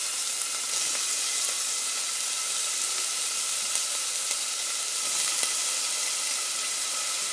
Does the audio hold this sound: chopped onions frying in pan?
yes